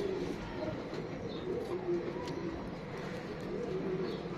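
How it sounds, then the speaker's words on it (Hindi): Kamgar breed pigeons coo softly in a steady low murmur, with several birds overlapping at a moderate distance and no speech. "कमांगर कबूतर लाहौर के मशहूर ज़माना उस्ताद सुहेल अंसार खान साहब के घर की ब्रीड मानी जाती है"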